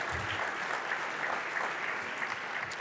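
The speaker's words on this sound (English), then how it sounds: "we should applaud these young people for their aspirations." Audience at an annual benefit dinner applauds steadily, a dense, even wash of clapping at moderate level with no speech over it.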